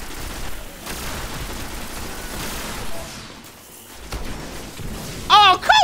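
Shotgun blasts and gunfire in a Destiny Iron Banner multiplayer match, a run of sharp bursts and booms under a continuous noisy battle bed, ending with several louder close shots.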